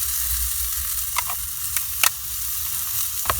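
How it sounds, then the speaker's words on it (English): Frozen carrots and peas go into a hot pan. A loud hiss and sizzle runs steadily, broken by a few sharp clinks and scrapes as they are stirred in. Nobody speaks over it. "Oh, I forgot, we have some frozen vegetables here. Let's go ahead and put those in."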